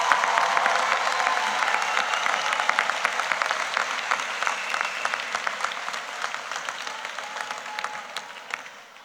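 A high school commencement crowd claps for the principal in a dense, sustained round of applause lasting about nine seconds and slowly thinning toward the end.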